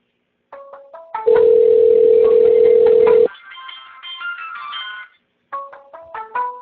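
An outgoing call from a phone dialing system, with short tone beeps, a sustained steady tone, then a burst of melodic electronic ringing tones, clear and alone.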